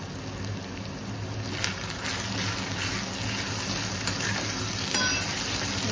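Red chilli powder, turmeric, asafoetida and salt sizzle in hot oil with tomatoes in a pan, a steady close frying hiss with occasional stirring clinks and sputters.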